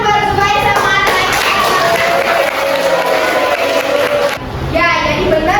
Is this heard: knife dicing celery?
no